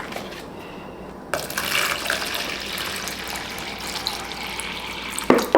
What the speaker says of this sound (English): I'm going to put the water in this cup